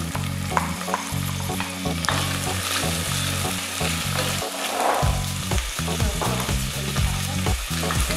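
Peas go into a frying Sicilian ragù with meat and oil, made for Palermo rotisserie pastries: a steady close sizzle runs throughout, broken by repeated stirring scrapes, with no voices.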